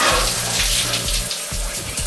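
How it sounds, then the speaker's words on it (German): A shower runs at full force over someone standing under it fully clothed, a loud, steady rush of water that continues without a break, with low tones humming beneath it. "Für eine schöne Dusche mit Klamotten."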